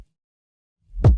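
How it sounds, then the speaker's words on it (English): Reversed kick drum in an electronic track: after near silence, a single low swelling thump rises quickly and cuts off abruptly, loud and alone. "the kick is also reversing into the next section of the phrase"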